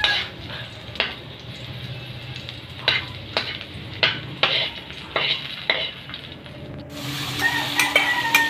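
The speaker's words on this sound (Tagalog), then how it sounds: "nagisa tayo dito ng bawang at sibuyas. Nilagyan natin ng mantika yan guys ha" Garlic and onion sauté in oil in a pan, a steady sizzle broken by repeated sharp scrapes and clinks of a utensil stirring against the metal, with the frying growing louder near the end.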